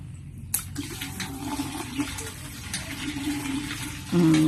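Water gushing from a hand pump well into a container, a steady splashing flow under the open-air ambience, growing louder near the end.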